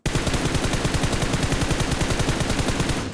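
Rapid automatic gunfire in the PUBG Mobile battle royale game rattles out as one loud, unbroken burst of evenly spaced shots.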